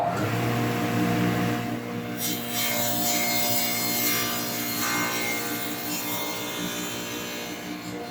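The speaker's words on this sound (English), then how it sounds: "have to switch this over to the other miter saw slot, move the fence over this direction" A miter saw cuts a dado into a wooden board while installing DIY barn windows, giving a steady, loud, sustained grinding whir with a brighter rasping surge partway through and no pause for the whole stretch.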